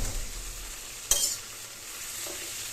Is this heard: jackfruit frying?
yes